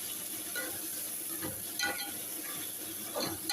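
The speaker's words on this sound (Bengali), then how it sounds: "এখন রসুন দিয়ে দিতেছি, দেখেন দিয়ে দিলাম" Garlic dropped into a hot pan with onions, a steady bright sizzle with bursts of crackling and stirring scrapes, close and continuous throughout.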